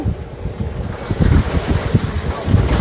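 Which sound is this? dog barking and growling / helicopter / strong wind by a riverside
strong wind by a riverside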